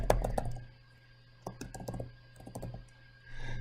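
Keys clatter in quick irregular bursts on a computer keyboard as an address is typed into mortgage software, close and fairly crisp, with short pauses between runs of keystrokes over a steady low hum.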